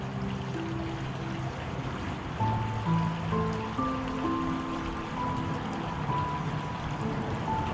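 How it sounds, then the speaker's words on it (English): Water pours through a hydraulic canal gate into a river on the Newry Shipping Canal in County Armagh, a steady broad rushing wash with faint tonal whines mixed in. "That's letting water out into the river."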